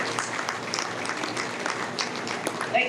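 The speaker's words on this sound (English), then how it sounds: "And we want us to give a round of applause for all our panelists." Audience members at a bar association conference plenary applaud the panelists with a steady patter of many hands that fills the hall throughout, while a voice speaks over it.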